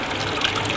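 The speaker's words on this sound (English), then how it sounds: "The water dripping back in also adds oxygen to the system." Water trickles and splashes steadily back into a small aquaponics fish tank built from recycled 2-litre bottles, a constant close gurgling flow that continues without a break.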